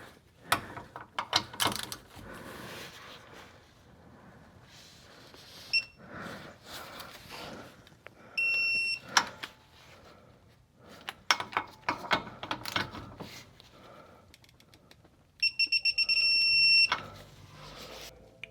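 Torque wrench tightening the two bottom nuts on a Subaru WRX STI rear differential carrier, with ratcheting clicks, metallic taps and two short, sharp clicker signals as torque is reached, close up in a workshop.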